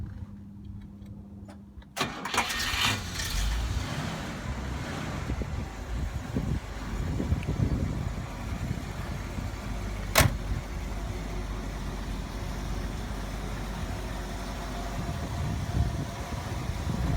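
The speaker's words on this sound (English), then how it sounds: "Let me start it up for you." A 1960 Cadillac's 390 V8 with a four-barrel carburetor cranks and catches after about two seconds of near silence, then settles into a steady, throaty idle close by, with one sharp tick partway through.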